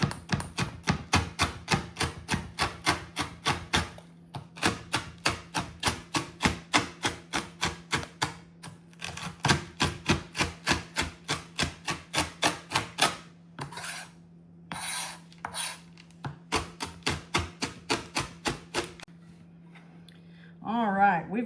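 A knife chops cooked bacon on a cutting board in a steady run of sharp, close taps, pausing briefly now and then, with a faint low hum underneath and no talking.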